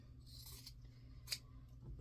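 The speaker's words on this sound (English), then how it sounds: "So then you take your scissors, cut off this back extra 2 layers." Scissors snip through extra layers of quilting fabric for a table runner, with a couple of quiet, close crisp cuts and one sharper snip in otherwise faint room noise.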